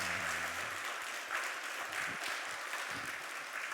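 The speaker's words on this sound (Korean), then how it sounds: "우리 환영의 박수" A church congregation at Sunday worship gives warm, welcoming applause, a continuous, fairly distant patter of many hands with a brief voice tone at the start.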